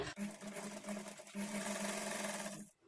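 A sewing machine runs steadily while stitching trouser fabric, a close, continuous mechanical whir with a brief pause near the start, stopping just before the end.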